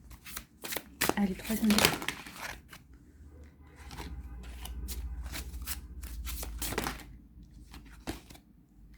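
Tarot cards shuffled in a series of crisp riffling and flicking bursts, strongest early on and spaced out later, with someone speaking over the handling.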